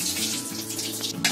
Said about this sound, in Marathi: आता याचं पाणी काढून टाकते.